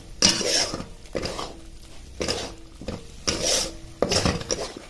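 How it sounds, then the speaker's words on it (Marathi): Dry spice powders being stirred into a ground masala paste for bazar amti, heard as about five rhythmic scraping strokes of a utensil against a pan, close and fairly loud, with quiet pauses between strokes. "हे जे कोरडे मसाले पावडरचे ते ह्या वाटणामध्ये चांगल्या प्रकारे मिक्स करून घ्यायचे"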